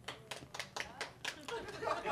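A small audience claps in scattered, uneven bursts for a quick show-of-hands poll, the claps fairly close and moderately loud, with some chatter and light laughter mixed in.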